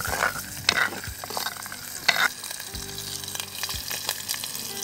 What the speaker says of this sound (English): She is going to fry the dried fish first. Now it is half fried.